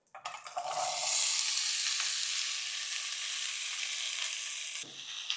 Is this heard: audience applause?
no